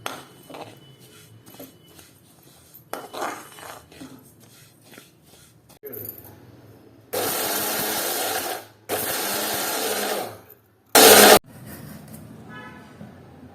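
Mixer grinder whirring on areca nut powder in short bursts, loud harsh bursts of a few seconds each, stopping and restarting, with quieter handling clatter between.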